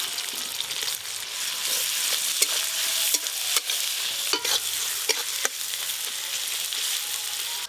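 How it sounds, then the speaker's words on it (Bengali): Chopped onions fry in oil in a wok for a crab curry, a steady close sizzle with occasional sharp stirring scrapes of a spatula against the pan. "পেঁয়াজ কুচি একটু ভালো করে ভেজেছি।"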